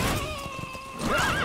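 A horse whinnies in Metal Gear Solid V: The Phantom Pain, a loud nearby neigh over steady game ambience, its rising and falling call sharpest in the final half second.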